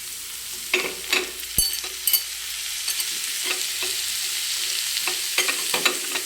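Moong dal goes into a hot frying pan and is stirred, with repeated scraping strokes over a continuous close sizzle and one sharp knock, and nobody speaking.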